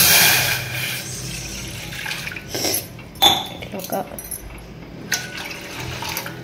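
Water poured from a glass into a cooking pot for making vermicelli, heard as intermittent splashes and clatter with a person talking between them.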